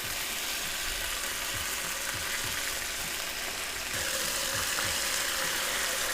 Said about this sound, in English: I think the pan is hot enough. It should sizzle a little bit.